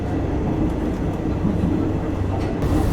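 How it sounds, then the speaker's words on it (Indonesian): Freight train hauling shipping containers rolls past on an adjacent track, heard from inside a moving airport train; a steady, loud rumble fills the whole stretch without a break. "Wah, di sebelah ada kereta peti kemas, guys."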